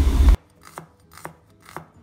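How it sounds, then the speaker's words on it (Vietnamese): Shallots are sliced with a knife on a cutting board while making Vietnamese tapioca dumplings, three crisp, evenly spaced chops following a brief loud burst at the start. "Hành tím có thể cắt hoặc là mình bào."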